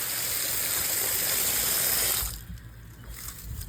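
Water rushes loudly and steadily through a distribution pipe, then cuts off abruptly partway through, leaving a quiet room with faint clicks and low background noise.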